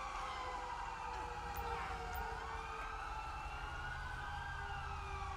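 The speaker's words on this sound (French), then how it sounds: "regardez-moi ça là, toutes les ambulances qui arrivent." Several ambulance sirens wail together in GTA 5 as emergency vehicles arrive at a burning truck on a highway, with rising and falling tones sounding steady and fairly loud over a dense traffic rumble.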